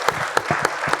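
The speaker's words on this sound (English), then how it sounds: "But I think round of applause for Johan." An audience at a talk claps in a short burst, with distinct hand claps following one another in a quick rhythm across the second.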